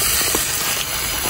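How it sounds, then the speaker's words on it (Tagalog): Mung beans sautéing in a pan for a farm-style dish, giving a steady, close sizzling hiss with a few soft clatters throughout. "Ito po, ginigisa na yung munggo."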